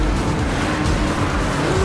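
Nitrous boost on a pink Porsche in the racing game Need for Speed Rivals: a loud, steady engine roar with a sustained rush of noise across the whole clip, and no pauses.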